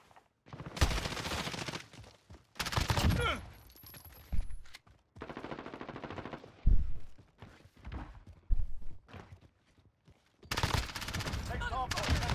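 Bursts of gunfire from the video game Call of Duty: Modern Warfare, several loud volleys separated by short gaps, with game voice callouts heard in between.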